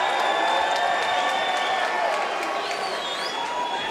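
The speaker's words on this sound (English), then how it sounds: "Fans on their feet, cheering on to Crazy Hawaiian." Arena crowd at a Power Slap 9 event cheering and whooping with sustained, loud broadband roar and scattered applause, steady throughout without a break.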